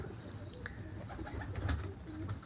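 A domestic pigeon from a rooftop loft of high-flying birds gives a soft, low cooing call close by, a brief rolling coo over faint background noise.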